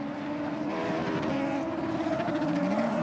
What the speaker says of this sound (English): love the background noise of a junior cross car just sitting on the limiter